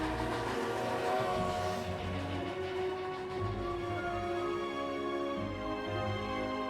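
A train ride in the Lego Harry Potter video game, with a steady rumbling run of rail noise and a sustained tonal hum, mid-level and unbroken, with no voices.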